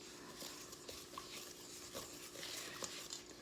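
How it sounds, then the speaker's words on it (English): Chopsticks stir hot gyoza dough in a bowl, producing a soft, steady scraping and gentle tapping, faint and continuous, recorded close with no talking. "you take either fork or chopsticks hashi, and then you go mixing"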